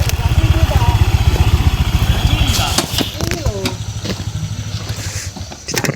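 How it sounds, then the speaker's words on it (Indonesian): A motorcycle engine idles and putters steadily up close on a road near a forest, then fades as people talk over it. "Di situ ada sebuah motor kali ya."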